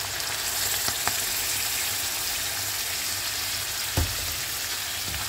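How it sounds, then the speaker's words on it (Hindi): Pasta sauce ingredients frying in a pan, a steady dense sizzle that fills the clip, with a few brief clinks of a spoon or spatula stirring, no one speaking. "अब 1 मिनट के लिए इसको भूनेंगे और फिर इसमें हम सॉस डालेंगे, पास्ता सॉस।"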